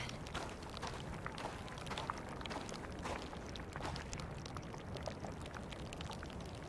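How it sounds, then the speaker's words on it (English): Bubbling fear-infection sound in Amnesia: Rebirth: a faint, continuous, watery gurgle with irregular soft pops and drips that runs steadily throughout. "This bubbling sound."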